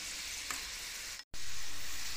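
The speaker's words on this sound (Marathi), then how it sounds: "आपण हे चिप्स पुन्हा दुसऱ्यांदा तळून घेऊया" Potato finger chips sizzle in hot oil during their second fry, a dense continuous crackle that cuts out for a split second and then resumes loudly, with no talking.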